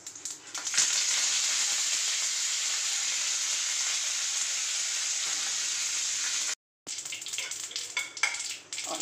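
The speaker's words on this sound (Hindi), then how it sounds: "और अब हम डालेंगे करी पत्ते।" Curry leaves hitting hot oil in a mustard-seed tempering for semolina dosa, a loud, dense crackling sizzle that runs continuously, breaks off briefly, then resumes with stirring scrapes; close, with no talking.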